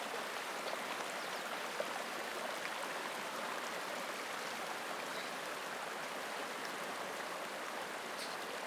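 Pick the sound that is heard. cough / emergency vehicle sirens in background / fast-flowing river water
fast-flowing river water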